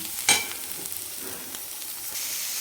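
Mustard greens stirred with salt in a pan, a soft spoon scrape near the start followed by a faint, steady sizzle and light stirring throughout.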